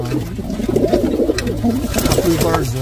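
Racing pigeons coo in a loft, their throaty, rolling calls repeating close by and overlapping, with some human speech mixed underneath.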